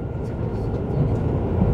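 Low, steady rumble of a JR Central KiHa 85 diesel railcar, a four-car train running, heard from inside, with faint voices over the engine drone.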